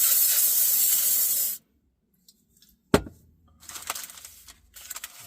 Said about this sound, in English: Spray a little of our cooking spray in the bottom of